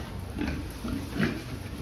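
Pigs grunting and oinking nearby in short, low bursts over a steady background hum.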